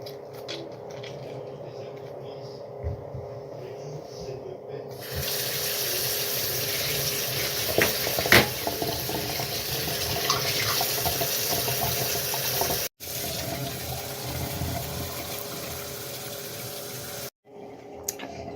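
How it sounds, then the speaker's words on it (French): Tap water runs into a container in a home kitchen, a steady gushing flow that starts partway in and continues loud and close, briefly cutting out twice near the end. "après il ne restera plus qu'à ajouter l'eau du robinet."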